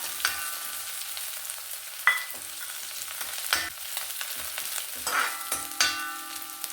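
Chopped curry leaves sautéing in a pan for egg rice, a quiet crackling sizzle punctuated by several sharp clinks and scrapes of a spoon against the pan.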